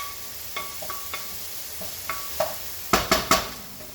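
Onions frying in a pan for a veggie pasta sauce, a soft steady sizzle punctuated by several sharp scrapes and clacks of a utensil stirring against the pan, getting louder toward the end.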